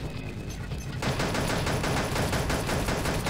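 A Singer Pistol firing in the blocky shooter game Pixel Gun: after a second of busy game noise, a dense, rapid stream of loud, close shots runs without pause to the end.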